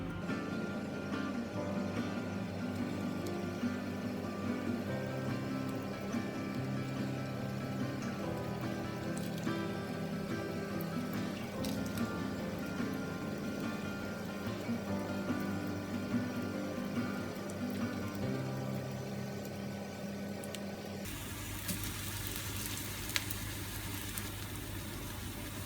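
Jalebi batter frying in a pan of hot oil on medium heat, a continuous fine sizzle and bubbling hiss that stays even and soft throughout, with no voices.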